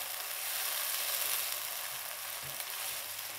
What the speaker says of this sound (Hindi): अब ये ग्रेवी बनाने के लिए हमने इसकी अच्छी तरह से भुनाई करनी है।